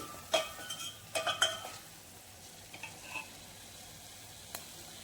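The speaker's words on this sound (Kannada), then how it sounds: "ಸಾಸಿವೆ, ಅರಿಶಿನ ಪುಡಿ ಹಾಗೂ ಕರಿಬೇವನ್ನು ಹಾಕ್ಕೊಳ್ಳಿ" Mustard seeds, turmeric and curry leaves fry in oil, giving a low sizzle broken by several sharp spatula scrapes and clinks against the pan in the first seconds, then a few scattered taps; no voices.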